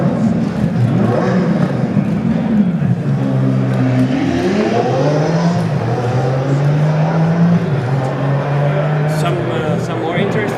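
A Lamborghini at the 2023 Canadian International Autoshow in Toronto, its engine rising and falling in pitch through several revs, loud and close, heard under crowd chatter and hall noise.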